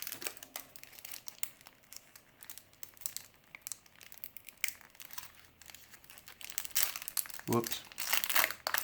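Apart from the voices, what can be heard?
tearing open Star Wars CCG card pack wrapper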